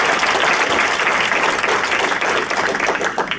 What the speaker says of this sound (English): Why don't we have an applause for the teaching team there?